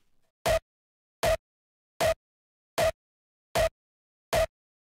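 Layered kick drum sample with a sub-bass layer added for extra low-end punch, struck six times at an even, steady pace, each hit short and punchy with silence between.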